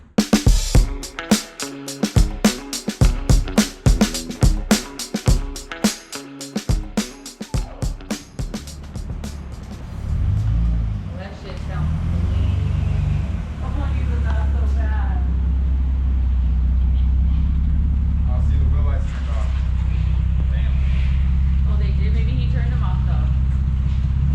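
A Lexus GS300 engine revving in sharp bursts, then a sustained deep exhaust roar as it accelerates and cruises, with a person speaking in the middle.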